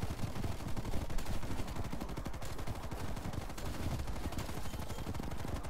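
Gunfire in Black Ops Zombies: rapid, steady automatic-weapon fire rattles continuously for several seconds, dense and moderately loud, with no one talking.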